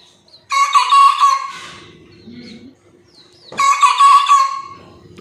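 Young desi cockerel chicks crow twice nearby, each call a loud, strained cry lasting about a second, with soft clucking and chirps between them.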